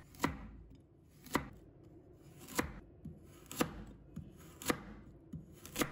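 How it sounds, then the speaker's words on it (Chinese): A kitchen knife slices a carrot into thin pieces on a cutting board, giving six or so crisp, evenly spaced chops heard up close over a soft background hum. "再准备1根胡萝卜，把它切成薄片，尽量切得薄一点。"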